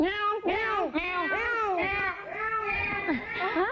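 A voice imitates a cat, giving a run of drawn-out, wavering meows one after another, close and fairly loud.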